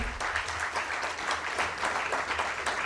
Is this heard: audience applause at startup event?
yes